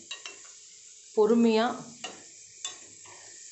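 Cheese balls sizzle steadily as they fry in hot oil. A short spoken phrase and a few light clinks of utensils break in midway.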